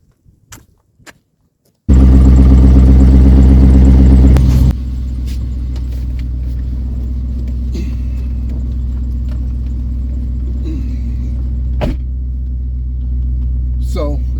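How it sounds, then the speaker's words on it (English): Steady low engine rumble from a C5 Corvette while driving, loud right after startup and then settling into a constant cabin drone, with faint clicks and handling noises above it and no talking. "I'm gonna take a drive in the C5 Corvette."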